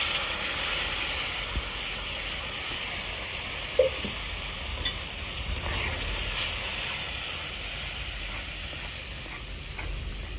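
Tomato paste sizzling in a hot pan with red chilli powder and ground coriander for a Bengali egg paratha dish, a steady close frying hiss with a brief clink near the middle.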